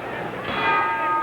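A boxing round bell rings with a sustained metallic tone at the end of a round during a title fight, heard over crowd noise.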